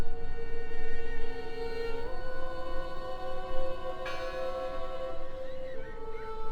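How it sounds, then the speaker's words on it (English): A church bell rings in the video game Draugen, a single sustained toll whose humming overtones carry across the clip with a second strike at about four seconds, heard alone over a low ambient bed. "I heard the bell!"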